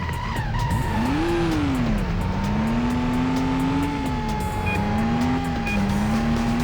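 A pickup truck in the Stuntman driving game pulls a 180 handbrake turn, its engine droning loudly throughout while tires squeal in a long wavering pitch that dips and rises.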